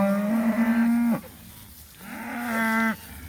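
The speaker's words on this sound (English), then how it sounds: "Cows are all bawling, trying to find their calves." Cows on a pasture in cool fall weather bawl for their calves, two drawn-out moos with a short quiet gap between them, moderately close and heard without talk.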